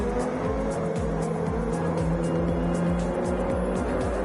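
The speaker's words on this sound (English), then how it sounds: "Sounds to me like he's got engine damage. Going around the track awfully slow." A GTC-2 race car with engine damage crawls around the Autopolis circuit in a racing video game, its engine droning in a low, steady, rough hum with repeated rhythmic pulses and occasional tire noise.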